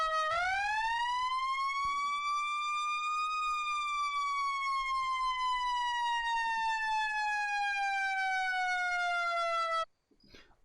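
A single long fire truck siren wail from the ArmA 3 video game with an NYPD and rescue mod rises, holds, and slowly falls in pitch, steady and loud, then cuts off abruptly near the end.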